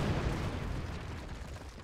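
A bomb goes off in the video game Keep Talking and Nobody Explodes, a loud, heavy boom with a deep rumbling tail that fades slowly.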